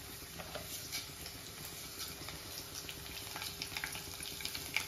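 Cooking oil sizzling steadily in a pan on the stove for a Telugu pongal and pacchipulusu recipe, a constant soft crackle with occasional stirring taps and scrapes, close and moderately quiet throughout.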